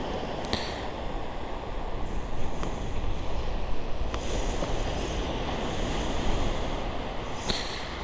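Waves wash onto a sandy beach strewn with stones in a continuous surf roar mixed with wind buffeting, with a few faint clicks over the top; no speech.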